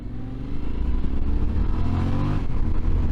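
A 2023 Yamaha Tenere 700 World Raid motorcycle engine rumbles close as the throttle opens, a steady low growl swelling slightly during an off-road ride.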